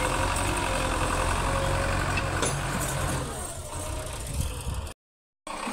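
Belarus 510 tractor engine running at a steady idle near a fish farm pond, a dense continuous rumble that eases slightly after a few seconds, then cuts out briefly before resuming.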